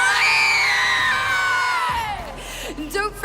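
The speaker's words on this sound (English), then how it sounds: "I'd love to hear you cheer for absolutely everyone that took part today" Spectators cheer and whoop loudly in the stands at a BMX racing event at a BMX centre during world championships, a dense crowd roar that swells at once and then fades over a few seconds.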